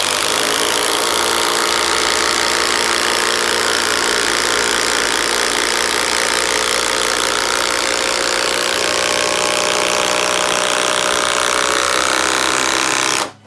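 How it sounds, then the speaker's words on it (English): Bosch Freak impact driver sinks a 6-inch Timberlock screw into OSB, a loud continuous rattling hammer that runs steadily for about thirteen seconds before stopping abruptly. "6-inch Timberlock going into OSB."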